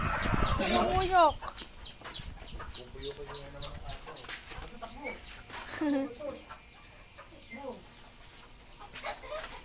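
Chickens cluck and crow around a rural yard, several repeated calls scattered near and mid-distance, while people talk over them.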